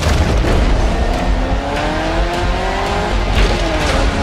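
A Lamborghini Urus SE hybrid SUV roars with a continuous, loud engine note, rising and falling through revs with tire squeal mixed in, sustained and close throughout without any talk.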